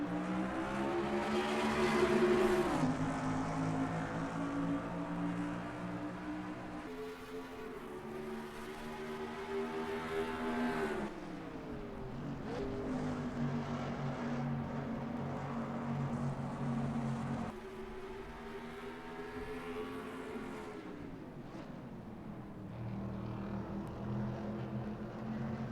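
Race cars in the NR2003 racing game at Road America, Wisconsin, during a Menards 180 national series race: steady, loud engine drone with pitch rising and falling through shifts for about 26 seconds, with no talk.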